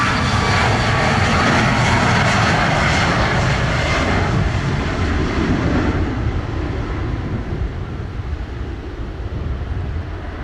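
An American Airlines jet takes off from runway 07 at Sangster in Jamaica, its engines making a loud, continuous roar that gradually thins and fades as the aircraft moves away.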